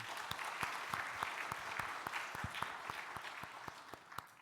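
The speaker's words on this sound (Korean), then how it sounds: "우리 박수 한번 뜨겁게 하시죠." A church congregation claps warmly, a fairly quiet steady spread of many hands with some distinct individual claps standing out.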